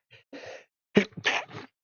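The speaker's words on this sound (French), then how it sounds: "Je vous envoie un éternuement dégueulasse dans le micro." Someone sneezes close into a microphone. A faint breathy intake comes first, then a sharp, loud burst, followed by a softer trailing exhale.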